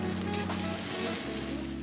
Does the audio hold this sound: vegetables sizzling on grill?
yes